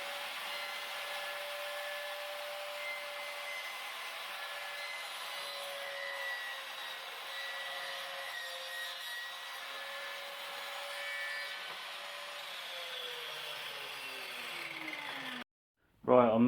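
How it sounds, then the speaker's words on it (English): Miter saw cutting wood pieces down to size for a beer caddy, a loud steady whine with the pitch sagging as the blade bites through, then it stops abruptly and a brief clunk follows. "I'm using my miter saw just to cut the pieces down to their final dimensions."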